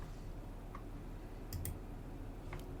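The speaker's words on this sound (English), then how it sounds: "You hear my keyboard." A computer keyboard being typed on during a podcast recording: a few scattered, faint, sharp clicks against a steady background hiss, with no voices.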